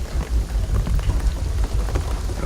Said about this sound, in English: the rain is gonna flood the place